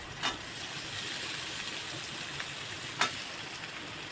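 Onion and tomato frying in oil in a pan while cooking a prawn masala, giving a steady, fairly quiet sizzle with a couple of brief louder crackles.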